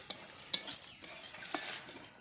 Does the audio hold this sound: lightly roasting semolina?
yes